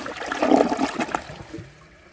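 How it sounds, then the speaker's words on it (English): A 2022 Kohler Elliston toilet flushed with a quick press and release of the handle gives a short surge of rushing water that fades into a trickling refill, heard alone without talk. "I'm going to try a press and release flush"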